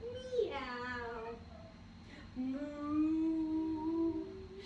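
A voice imitates a cat's meow during a kids' cat-cow yoga pose: two drawn-out, wavering meows, the second longer and rising, close and clear over a quiet room hum.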